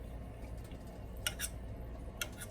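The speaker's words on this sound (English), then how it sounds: "with the fork you can much more easily find big chunks and smash them along the side of the pan" A fork scrapes and presses chunks of cream cheese against the side of a pan while making beer cheese, giving a few soft, quiet metallic clicks over a low steady background.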